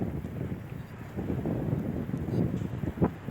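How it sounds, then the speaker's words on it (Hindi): Strong gusting wind and heavy rain from Cyclone Tauktae in Morena make a rough, continuous roar with buffeting bursts close to the microphone. "मुरैना से खबर है, तेज हवाओं के साथ 1 घंटे लगातार बारिश हुई है।"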